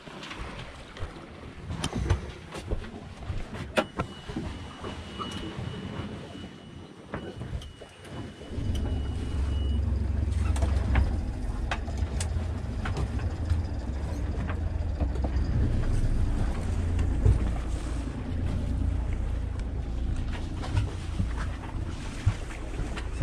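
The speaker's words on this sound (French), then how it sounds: "on n'a plus qu'à rallumer les moteurs" Sailboat engines rumble low and steady after being restarted at sea in calm conditions, joined midway by a stronger throbbing drone, with wind buffeting and clattering noises on deck around them.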